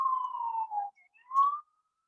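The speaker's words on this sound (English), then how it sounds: "there's a siren, and so I apologize for that" A wailing emergency siren near a hospital, a single sustained tone sliding slightly down, breaking off briefly, then rising again in a shorter swell, heard clearly and alone with no talk.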